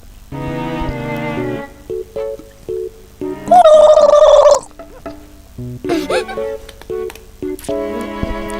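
A voice imitates a turkey gobbling, a single warbling, gargled call of about one second, loud and close, set among background game music and sound effects.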